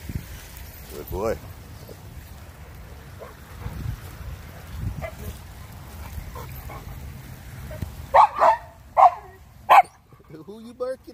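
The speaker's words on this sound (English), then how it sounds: "Who are you barking at?" A Renascence Bulldogge barks outdoors beside a flooded stream, several deep barks in quick succession near the end after a stretch of wind and low rumble, with someone talking earlier.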